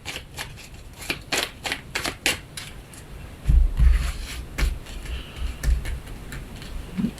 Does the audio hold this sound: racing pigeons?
no